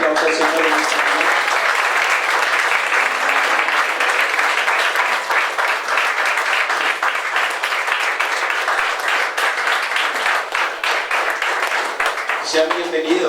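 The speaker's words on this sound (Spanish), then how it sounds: "fuerte aplauso al Señor en esta mañana" Loud, sustained applause from a congregation fills a Sunday church service, steady clapping lasting the whole stretch without a break.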